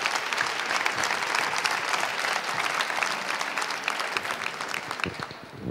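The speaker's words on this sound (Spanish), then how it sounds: "Ahí está, Javier, un aplauso." At a youth fashion design award ceremony on a Castilla y León runway, a large audience claps continuously for the prize presenter, a thick, sustained roar of many hands that tapers near the end.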